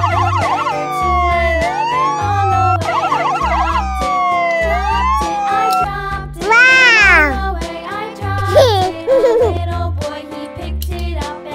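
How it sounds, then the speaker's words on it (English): An ambulance siren from a children's cartoon street scene wails and cycles through rising and falling tones over a steady backing music bed, loud and close throughout. "Ambulance."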